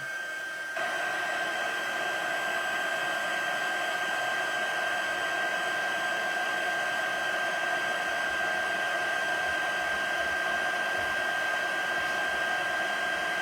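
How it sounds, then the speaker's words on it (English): A heat embossing tool switches on almost immediately with a steady, loud blowing whine like a hair dryer, running continuously with a faint high tone on top. "I'm going to turn on my heat tool for a second. This will make a bit of noise, kind of like a hair dryer"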